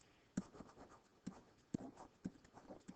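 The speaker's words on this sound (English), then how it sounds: "Let me write this down." Pen or marker writing out a geometry proof, with quick scratchy strokes and several sharp taps spaced through the clip, close and fairly faint.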